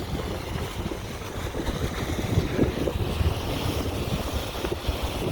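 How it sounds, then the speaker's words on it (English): Another boat passing on the Cape Fear River near Wilmington, North Carolina, heard from a sailboat as a low, steady engine and water rumble mixed with wind buffeting the microphone, fairly constant throughout. "Another boat coming up the river."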